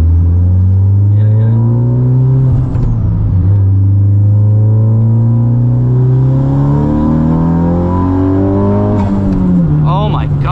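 A big-turbo Honda Civic Type R making 547 wheel horsepower accelerates hard, its loud engine note rising steadily through the gears and dropping briefly at a shift, with people talking inside the car.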